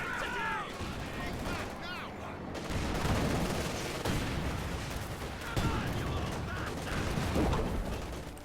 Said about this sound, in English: Grenade going off.